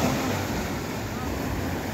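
Ocean surf rolling onto San Juan beach in La Union, a rough, steady wash of breaking waves with wind buffeting the microphone throughout.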